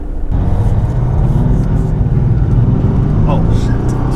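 A Maserati Ghibli diesel saloon accelerates from rest, its engine a deep continuous rumble building steadily throughout, with a person talking over it.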